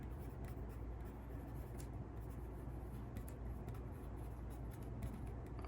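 A pen scratches faintly and steadily as an equation is written out by hand, soft continuous strokes in a quiet room.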